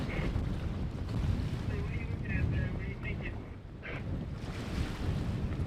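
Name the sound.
waves behind boat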